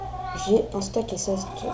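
A cat meows a few times in quick succession close by, while a person talks over it.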